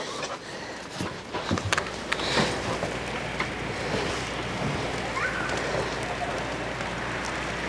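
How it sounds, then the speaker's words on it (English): Heavy rain pours down steadily as a dense, continuous hiss with wind buffeting the microphone, loud and close throughout. "Oh my god, it is raining so hard."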